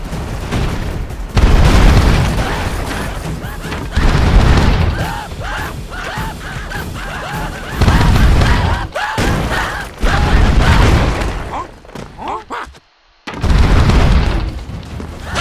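Heavy airstrike explosions rain down in the side-scrolling action game BroForce, a near-continuous barrage of loud booms and crashing blasts that pound on for most of the stretch, broken by one brief lull before the bombardment resumes.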